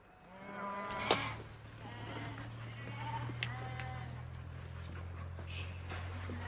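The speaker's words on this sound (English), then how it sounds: "They keep a flock of predominantly Scots, black and speckled-faced sheep" Scots black-faced and speckled-faced mountain sheep bleat in a flock, with several overlapping calls near and far over a steady low hum, and one loud close bleat early on.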